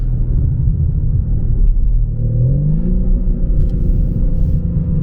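BMW M3 Competition accelerating hard, a loud close engine rumble holding steady, then rising in pitch as it pulls through the revs, heard from inside the car.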